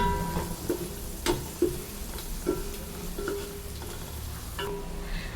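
Food being stirred in a frying pan in a home kitchen, with soft intermittent scrapes and clinks of a spoon over a steady low sizzle, close and moderately quiet.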